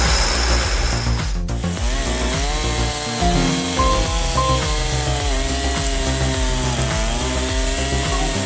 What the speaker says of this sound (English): With the 45 kilonewtons Johnsard CS 2245 hand saw, an 18-inch log will be split in no time.